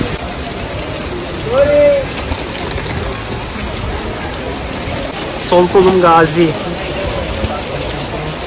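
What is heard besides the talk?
heavy rain falling in the street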